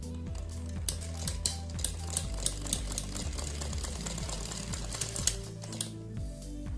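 A sewing machine stitches lace onto a blouse puff sleeve, running steadily with a close, rapid mechanical whir and rhythmic needle thumps, occasionally pausing and restarting, with no speech.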